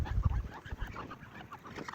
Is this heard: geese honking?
yes